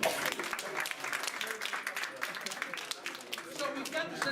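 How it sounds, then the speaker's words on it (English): An audience at a hypnosis show at a college claps in a dense, lively burst that continues steadily throughout, with voices mixed faintly among the applause. "Give them a round of applause, ladies and gentlemen."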